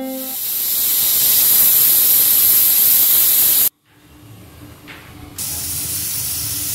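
Pressure cooker on a gas stove cooking Bengali-style mutton curry hisses loudly with a steady steam release, cuts off abruptly, then resumes after a quieter gap; no talking.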